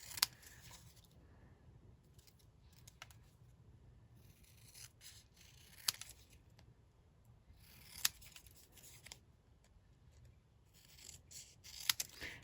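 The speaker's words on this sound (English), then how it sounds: "now we need to finish snipping this out, so I'm just cutting right on the edge" Scissors snipping along the edge of card stock while trimming a Christmas/Winter wreath card, giving soft, quiet, irregular cuts and rustles with a few sharper clicks, with no talking.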